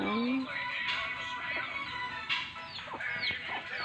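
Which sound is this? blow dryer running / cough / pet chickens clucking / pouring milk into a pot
pet chickens clucking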